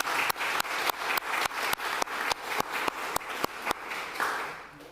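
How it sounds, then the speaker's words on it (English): Councillors at an ordinary council meeting give a round of applause. Steady, evenly spaced claps from a small group in a room, roughly four per second, fade out near the end. "Charlie, I'd like to ask councillors to give a round of applause for that deputation."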